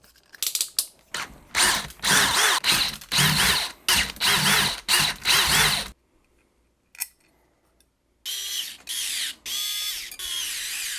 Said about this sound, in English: I'm just going to drill out the hole on this top plate